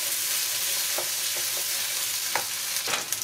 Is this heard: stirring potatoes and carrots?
yes